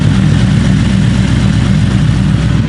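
Loud, steady engine roar from a car running at wide open throttle, its very loud exhaust droning continuously and close by with no talk over it.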